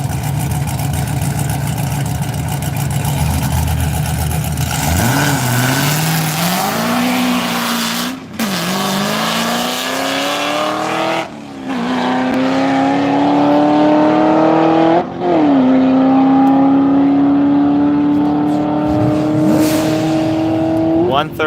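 A Chevrolet Camaro accelerates hard at the Texas Mile, its engine note climbing through several gear changes with brief dips at each shift, loud and close, rising to a sustained high-speed roar.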